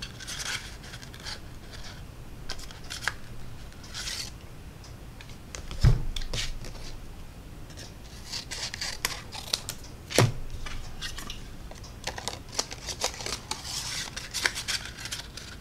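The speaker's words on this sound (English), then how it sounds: "I am just going to fussy cut him" Scissors fussy-cut designer series paper in a card-making session, giving soft, irregular snipping and crisp paper rustles with a couple of sharper clicks, fairly quiet and close.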